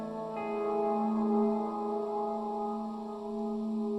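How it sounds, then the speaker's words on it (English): Sustained, layered tones wash together in a dark, heavy reverb, a slow ambient pad swelling and lingering with no voices. "But the reverb is super dark."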